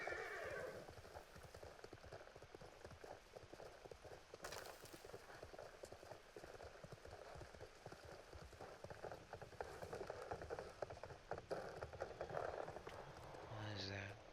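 A horse in a video game gallops with steady, rapid clip-clop hoofbeats and an occasional whinny, set against a dense, continuous background bed of game ambience.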